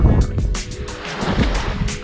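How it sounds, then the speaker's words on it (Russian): Calm winter sea at a beach in Vityazevo, with soft waves washing and breaking in small surges, mixed with wind rumble on the microphone, under someone talking. "Там прям такая волна шикарная сейчас была."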